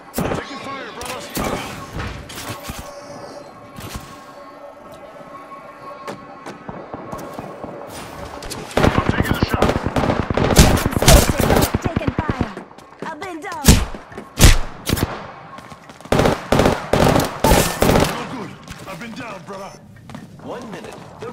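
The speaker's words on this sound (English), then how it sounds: "Taking fire, brothers." Rapid bursts of automatic gunfire from Apex Legends gameplay, dense volleys mid-clip and sharp repeated shots near the end, with a voice speaking over the game audio.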